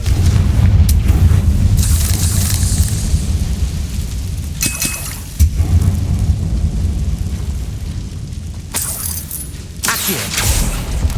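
Confringo explosive spells going off in Hogwarts Legacy combat: repeated booming blasts with shattering, clinking debris, loud and close over a dense rumbling background.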